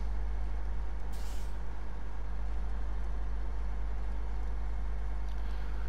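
A Tayga truck in the SnowRunner video game climbs a hill in low range, producing a constant deep engine drone with a steady low rumble and a brief hiss of air near the start.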